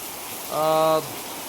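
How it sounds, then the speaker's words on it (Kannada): Heavy rain in the Malenadu region gives a steady, dense hiss throughout, briefly overlaid by a short tonal, voice-like sound in the middle. "ದೊಡ್ಡ ಪ್ರಮಾಣದಲ್ಲಿ ಮಳೆ ಬರ್ತಾ ಇದೆ"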